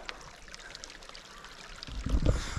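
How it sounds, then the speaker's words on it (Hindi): Spring water pours down from above in a mountain meadow of the Naran Kaghan valley. It runs as a steady, moderately close rushing stream with a heavier splashing surge near the end, and no voices. "अभी ऊपर चश्मे का पानी है तो ये ऊपर से आ रहा"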